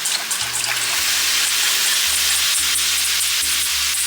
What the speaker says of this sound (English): We're gonna go ahead and add our sauce in.